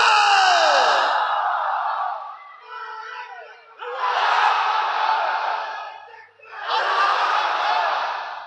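A large religious gathering chants "Hussaini" in unison, loud massed voices in three long swelling waves with brief pauses between, close and filling the space.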